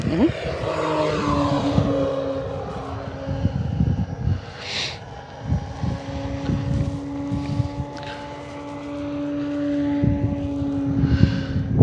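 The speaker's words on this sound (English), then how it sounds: "Boom, she's in the air, 20 feet, no problem with takeoff flaps." An E-flite Carbon-Z T-28 2.0 m RC airplane flying at full throttle on its maiden flight, a steady droning electric motor whine with pitch shifts as it passes, heavily buffeted by wind noise on the microphone.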